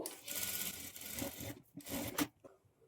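A sewing machine stitches a lining to the main fabric of a blouse in short whirring bursts with brief pauses between them, close and fairly quiet.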